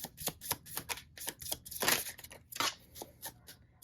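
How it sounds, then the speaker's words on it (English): Tarot cards being laid down one after another, a quick series of light papery snaps and slides, close and soft with no talking. "So let's see what we get as I put the cards down first."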